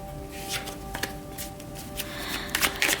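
Tarot cards riffle and slap together in a few quick shuffles, close and moderately loud, with a faint steady hum underneath.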